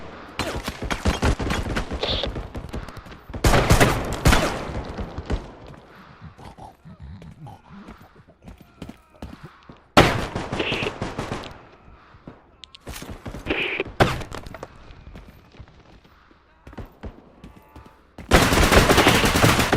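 Rapid bursts of shotgun and other gunfire in a video game crack out in loud clusters separated by short lulls, with repeated blasts and quieter ambient game sounds between volleys.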